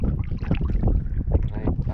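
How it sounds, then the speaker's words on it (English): A canoe or kayak paddled on a lake, close-up sloshing and dipping of the paddle in short rhythmic strokes, with wind buffeting the microphone. "Paddling around, exploring this lake"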